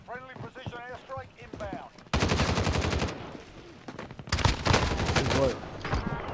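Rapid automatic gunfire from a weapon in the video game Rebirth comes in two loud sustained bursts, preceded by someone talking over the game sound.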